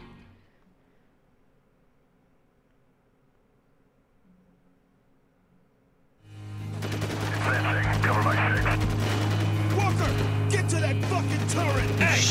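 Gunfire in the shooter video game Spec Ops: The Line: after a quiet stretch, loud sustained automatic weapon fire bursts in and keeps going as a dense, rapid clatter of shots and explosions to the end.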